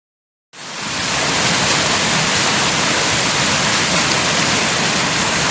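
Ramona Falls on Mount Hood pours in a steady, loud, broadband roar that starts abruptly after a moment of silence and holds constant, close by, with no voices.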